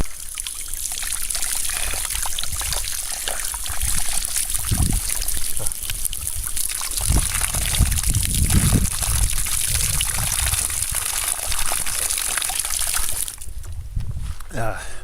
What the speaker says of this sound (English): we're gonna hit up this water fountain on time before we leave